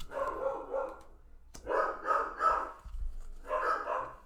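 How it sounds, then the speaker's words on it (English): Dogs bark in repeated bursts, several barks in a row with short pauses, moderately distant, no talking. "it sounds like they're going to be barking for a little bit."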